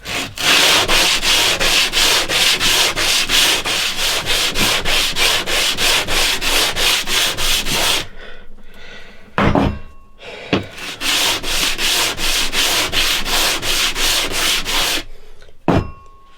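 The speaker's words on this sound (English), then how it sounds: "This sanding block has got the same radius on either side." Rapid rhythmic rasping of a radiused sanding block scrubbing back and forth over a wooden guitar fretboard, two long steady bursts separated by a brief pause with a few knocks.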